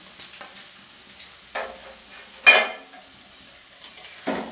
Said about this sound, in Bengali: দেখো ভালোভাবে নাড়িয়ে চাড়িয়ে নেবো।